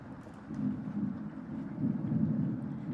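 A rainstorm in the video game Cooking Companions, heard as a low steady rumble of rain and distant thunder that slowly swells and stays fairly faint throughout.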